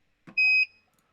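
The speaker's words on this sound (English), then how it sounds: "Sorry about the beeping in the background." A motion detector camera gives one short, bright electronic beep, loud and clean in an otherwise silent background.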